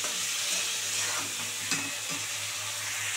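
Eggplant, potato and prawns fry in a pan with a steady, close broadband sizzle and hiss, broken by a few brief scraping stirs.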